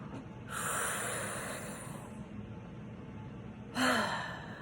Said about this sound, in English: it's important to exhale first